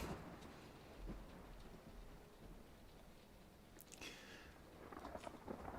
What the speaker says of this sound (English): It's stormy weather. Stormy weather. Stormy weather out there.